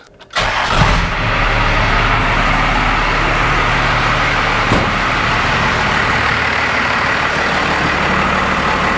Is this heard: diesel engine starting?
yes